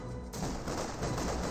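Vickers and MG34 machine guns fire continuously in Company of Heroes 2, a dense, steady rattle of overlapping bursts heard at a distance with no talk over it.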